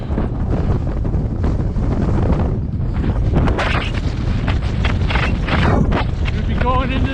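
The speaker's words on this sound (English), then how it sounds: "It's windy." Strong outdoor wind buffets the microphone in a continuous roaring rumble that swells and gusts, while a runner heading into a headwind talks through it.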